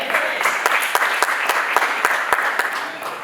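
A church congregation claps together, a dense burst of applause with sharp individual claps standing out, continuous and fairly close.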